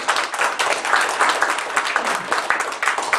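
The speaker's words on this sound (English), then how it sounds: "Big round of applause." Dense, steady applause from an audience at an Uncle Dave Macon Days festival press conference, honoring the festival board; many hands clapping close and continuous throughout.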